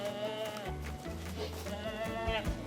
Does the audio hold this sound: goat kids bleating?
yes